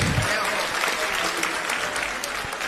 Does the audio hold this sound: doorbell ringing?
no